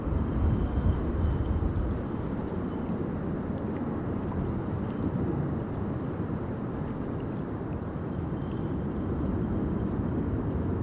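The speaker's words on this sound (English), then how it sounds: "This is KLM flight 1230. Embraer 175 arriving from Gothenburg." A KLM Embraer 175 touches down on runway 27 at Amsterdam Schiphol in high storm winds, a steady broadband jet roar with wind rumble, loud at first and then holding at an even level.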